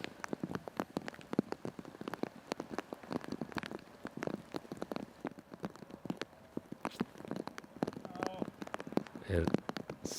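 Steady rain pattering and dripping across an outdoor disc golf course during a tournament round, dense scattered drops throughout, with a commentator's voice faintly under it.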